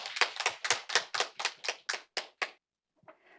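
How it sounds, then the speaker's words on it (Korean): Applause from an audience welcoming a presenter to a learning-city results-sharing event, heard as about ten sharp, evenly spaced claps that stop abruptly, followed by a faint rustle. "여러분 박수로 발표 만나보도록 하겠습니다. 박수 부탁드립니다."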